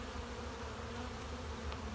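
Honeybees hum at an open hive during an inspection as young bees emerge, a faint, steady drone with no talk over it.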